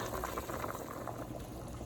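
A pot of water with goat feet bubbles at a steady rolling boil, a dense close-up gurgling hiss with no voices.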